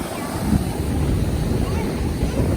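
Strong wind buffets the microphone on a stormy, rainy beach on Sanibel Island, a loud continuous roar and rumble with no voices.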